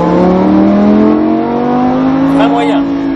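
A Lamborghini Huracán accelerates hard on a racetrack, its engine note loud, close and rising steadily in pitch throughout, with a faint squeal near the end.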